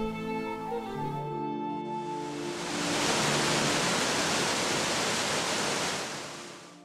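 Borgosavo waterfall in Lioni, plunging through forest: a steady, loud broadband roar of falling water swells after a softer opening and holds evenly to the end, with no voices.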